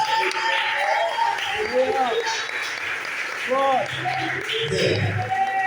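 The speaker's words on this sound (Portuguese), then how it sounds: "Então você vai aplaudir ao Senhor" A church congregation applauds the Lord, a steady wash of many hands clapping in a large room, heard beneath a voice and some ringing tones that continue over it.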